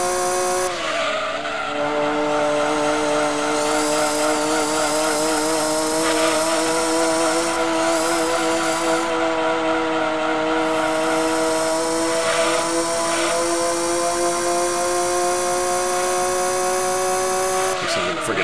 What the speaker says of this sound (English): you guys can kind of hear me working the throttle with that supercharger